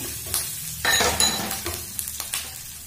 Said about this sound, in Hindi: अब मैं इसमें डालूंगी हरी मिर्च एक